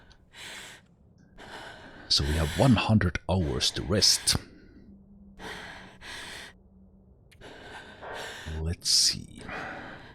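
An injured female character in The Long Dark survival game breathes heavily in ragged gasps and sighs, close and recurring, mixed in with someone talking over the game.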